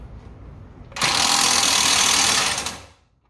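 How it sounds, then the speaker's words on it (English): An impact wrench tightens the front brake caliper bolts on a SAAB 9-3 during a rotor and pad change: one loud, steady buzzing burst of about 1.7 seconds that starts abruptly and then tapers off, heard close up with no talk. "So with the impact, we're gonna tighten these two."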